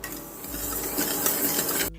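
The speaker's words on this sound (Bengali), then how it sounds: "আমি এখানে একশো গ্রাম মুগ ডাল ভেজে নিচ্ছি" Moong dal dry-roasting in a pan while being stirred constantly gives a close, continuous dry rasping and scraping of grains against the metal, with no talking.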